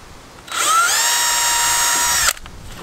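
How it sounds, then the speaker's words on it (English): A power drill pre-drills nail holes into soft batten timber, whining steadily and loudly for just under two seconds as it spins up, then stopping abruptly. "I'm pre-drilling the holes so that I can get the nails into this softer batten timber behind"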